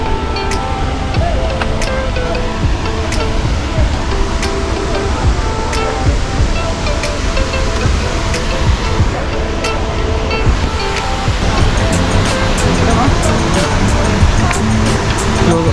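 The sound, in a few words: Athirapalli waterfall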